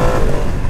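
Ducati Streetfighter V2 motorcycle engine while riding, a loud continuous engine roar with wind, close and steady, no talk.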